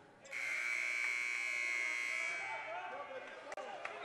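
A buzzer at a men's college volleyball match sounds as one long steady blare of about two seconds inside a gym, then fades while crowd noise and a commentator's voice carry on.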